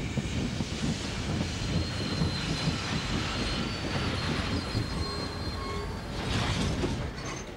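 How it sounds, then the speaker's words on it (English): A train rolls along steadily in the video game Dark Chronicle, a dense continuous rumble with rattling wheels and faint high squeals throughout, loud and close with no talking. "The Blackstone Railroad's back and ready for action."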